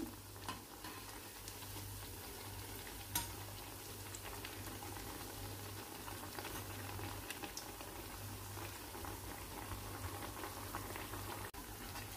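Food frying in a pan until it turns reddish, a steady continuous sizzle with light bubbling and an occasional stir or scrape, no voices, a faint hum running underneath.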